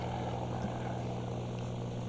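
A propeller airplane engine drones at a steady pitch in a flight simulator, a constant low hum with no talk over it.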